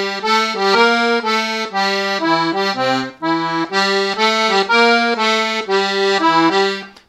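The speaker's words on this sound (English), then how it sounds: "how to play the blues pattern on the left hand of the accordion" A steady left-hand blues bass pattern on an accordion, rich reedy notes and chords moving in a repeating walking rhythm with shifting pitches, played up close and alone for several bars.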